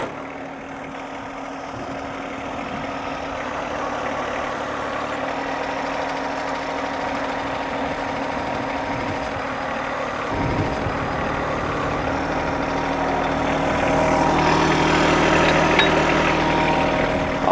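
John Deere 1025R compact tractor engine running steadily at idle nearby, a continuous diesel rumble that shifts slightly partway through and rises a little toward the end, with no talking.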